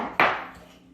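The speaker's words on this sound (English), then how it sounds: "so you just have to mince some garlic" A single sharp knife chop on a cutting board while mincing garlic for a Fattoush salad, one crisp close impact with a short decaying ring.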